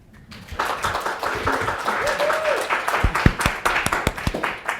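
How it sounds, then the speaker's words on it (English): A conference audience at a book publishing event bursts into applause, clapping building quickly from near silence to a full, steady roar, with a few sharp nearby claps and a brief faint tone partway through. "Next, I want you to give yourselves a round of applause."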